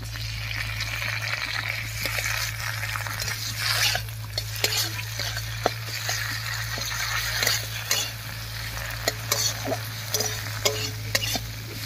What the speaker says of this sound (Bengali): মশলাটা দিয়ে নাড়িয়ে নিয়েছি, এবার একটুখানি মশলা বাটা জল দিয়ে কষিয়ে নেব